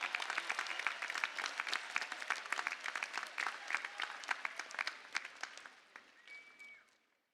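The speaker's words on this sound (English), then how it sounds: "would you join me in giving these champions, who's always been in your corner, a big round of applause" Large commencement crowd at a university spring ceremony applauding, dense rapid clapping from many hands that holds steady, then thins and fades out near the end.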